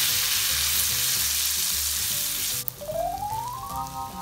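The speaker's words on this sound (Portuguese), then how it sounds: "depois de refogar a cebola, eu vou entrar com um pouquinho de vinho branco e vou deixar puxar" Chopped onion sautéing in butter in a pan, a loud steady sizzle, then white wine poured in with a burst of hissing that settles into a bubbling reduction.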